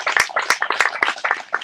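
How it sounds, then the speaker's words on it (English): Scattered hand claps from a crowd at a live political rally speech, a ragged burst of individual sharp claps close by, with no talking over them. "I just want to give you a round of applause."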